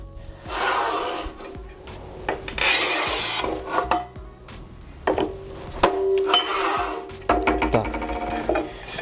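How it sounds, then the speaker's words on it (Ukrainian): A Fixtool Hercules BM 120T manual tile cutter works a small tile piece with several short rasping scoring strokes and scraping bursts separated by brief pauses, close and moderately loud, no talking. "Маленький шматочок відріжемо."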